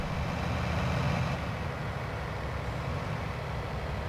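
A Deutz DU120 tractor pulling a Cestari grain cart idles in Farming Simulator 19, its engine a low, steady rumble that holds constant without revving, with no voices over it.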